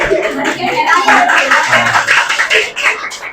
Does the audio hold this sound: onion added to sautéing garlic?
no